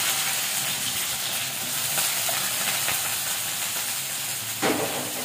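Onions sizzle in hot ghee in a kadai for khichuri, a steady bright crackling hiss that runs without a break, with a brief louder spatter near the end and no talking.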